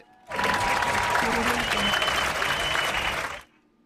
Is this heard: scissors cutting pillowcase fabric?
no